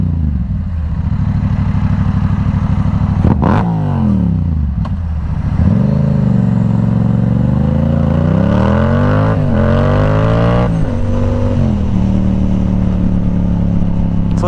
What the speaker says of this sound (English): Do a couple revs.